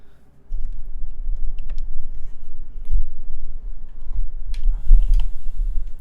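Rapid clacky keystrokes from a Keycult No. 1/60 mechanical keyboard, close and fairly loud, typed in irregular bursts with a low background hum.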